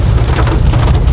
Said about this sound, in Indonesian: hujannya itu lebat